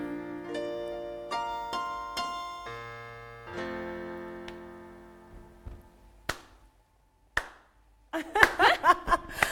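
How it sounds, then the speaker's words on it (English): Music plays, then a few isolated hand claps ring out, followed by a short burst of clapping near the end. "That is a slow clap moment"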